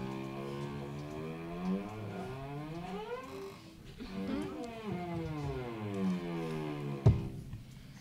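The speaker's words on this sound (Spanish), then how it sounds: "ahí teníamos un chelo" Cello notes played with bowed strings, the pitch sliding up and down as string length changes, sustained tones gliding continuously at moderate volume with a sharp knock near the end.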